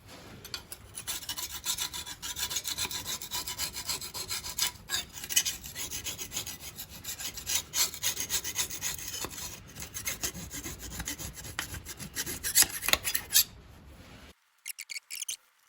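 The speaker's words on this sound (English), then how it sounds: "we'll do a bit of scraping up, clean up all this joint material" A scraper rasps repeatedly across an engine sump surface, scraping off old sealant and joint material from a Jeep Patriot or Compass CRD diesel, steady close scratching strokes that stop abruptly near the end, with no talking.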